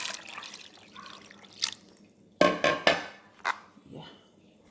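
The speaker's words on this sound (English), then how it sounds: "Adding more water." Water is added while preparing an achicha cocoyam dish, heard as a cluster of close splashes and sloshing bursts after quieter dripping and faint handling noise.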